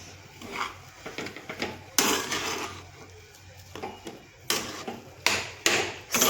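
Grated paneer being mixed with potato and spices in a bowl: scattered clattering and scraping knocks of a utensil, several sharp bursts separated by quiet gaps, close by.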